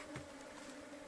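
A steady, dense buzz of honeybees at a hive during beekeeping training in Minvoul, northern Gabon, continuous and close with no voices.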